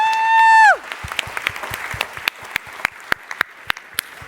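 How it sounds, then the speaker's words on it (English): An audience at a late-night comedy show bursts into applause, a burst of clapping that follows a brief tone and carries on as scattered, uneven claps. "Big round of applause."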